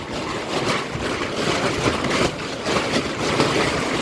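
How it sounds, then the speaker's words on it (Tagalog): Strong wind buffets steadily with gusty roaring and rushing noise at a house construction site, loud and continuous, with no voices. "Grabe ang hangin, no?"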